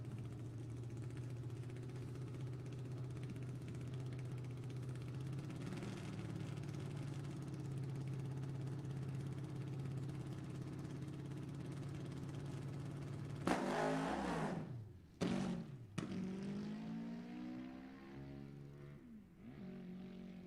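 A home-built sport motorcycle named Heart's Desire in pro extreme drag racing, a loud sustained engine drone that roars, then drops and surges through sharp revving bursts near the end.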